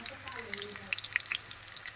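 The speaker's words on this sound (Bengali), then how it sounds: "আমার পেঁয়াজটার একটু ভাজা ভাজা করতে হবে" Onions fry in a pan, faint crackling and scattered sharp pops from hot oil at close range, with a soft voice faintly in the background.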